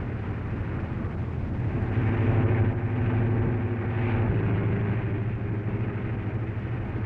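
An airliner comes in to land in the 1930s, its steady droning propeller engines filling the air with a loud, continuous rumble that swells slightly in the middle, heard alone without voices.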